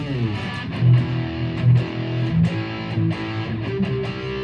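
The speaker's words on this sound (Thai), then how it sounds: "เป็นเสียงแตกนะรับ ตัวบิดก่อนนะค่อนข้างแรงเลยนะ" Heavily distorted Ibanez Gio GSA60 electric guitar chugs through a short riff, thick and saturated, with palm-muted strikes and held crunchy notes, no voices.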